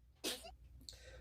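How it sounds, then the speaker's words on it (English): A person sneezes once, a brief sharp burst followed by a fainter trailing sound, in a quiet room. "other than sneezing"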